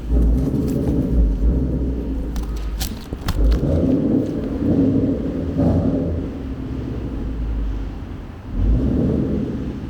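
A 2013 Ford Mustang with a Roush axle-back exhaust, which has a slight rattle, runs with a steady low rumble throughout and swells briefly a few times as if revving.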